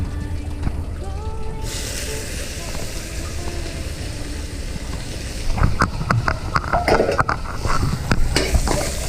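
Tofu is stir-fried in a pan with a steady hiss, then scraping and clinking of a spatula against the pan grows louder in the second half.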